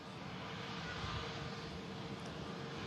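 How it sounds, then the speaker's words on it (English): Pegasus A321neo taxiing at Manchester Airport, heard as a faint, steady distant engine drone with a broad airy hiss and no distinct changes. "Pegasus A321neo taxiing in."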